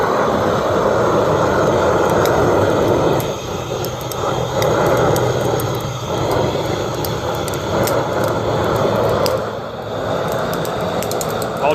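A homemade forge burner roars loud and steady as gas pressure is cranked up toward 200, a broad continuous rush with slight surges and faint ticking on top, no speech over it.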